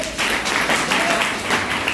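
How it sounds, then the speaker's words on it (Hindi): A short burst of audience applause at an education talk, many hands clapping at once for a couple of seconds. "इनके लिए जोरदार तालियां चाहिए।"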